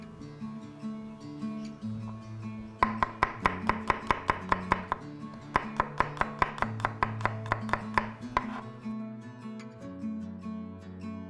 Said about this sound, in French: Nous pois carrés finis nettoyés, là nous coupons grossièrement.